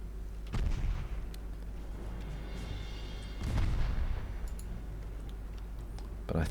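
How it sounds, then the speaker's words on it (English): Torpedo hits on a ship in a naval warfare video game come as three separate muffled booms, each with a short rumbling tail, spaced a few seconds apart over a low background hum. "Now St. Louis has torpedoes and has launched. That's 3 torpedo hits on Zara."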